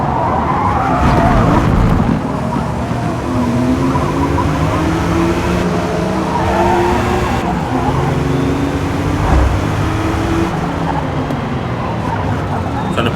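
Race car engines from Forza Motorsport roar steadily and loudly through a Modern Tour Cup race with a Porsche, a Lotus Elise and a TVR, gear changes rising and falling, tires skidding, and no talk.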